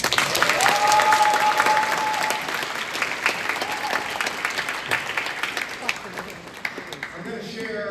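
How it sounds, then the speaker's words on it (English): Sustained audience applause fills a keynote address venue, steady and broad at first, then thinning slightly toward the end, with a voice briefly audible over the clapping near the close. "Can we give them a round of applause?"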